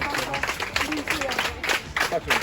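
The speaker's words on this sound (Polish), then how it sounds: "dziękując naszym bohaterom oczywiście oklaskami" Applause from a crowd honouring runners at a charity marathon, steady clapping bursts across the whole stretch with voices mixed in.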